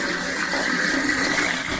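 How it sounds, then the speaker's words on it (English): Water flows steadily through a small model waterfall and river in a junkyard diorama, giving a continuous close trickling rush with no talk. "there is my daughter's working waterfall and river. I can see the water moving in there good"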